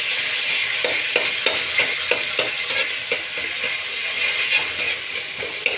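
Black cumin seeds and turmeric sizzle in hot oil as a tempering, a steady close crackle broken by repeated scraping stir strokes, with no one talking.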